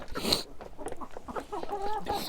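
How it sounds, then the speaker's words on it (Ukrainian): Chickens cluck and a Minorca rooster gives short calls, close by, with farmyard background noise throughout. "І ще лишився ось такий один півник мінорочка"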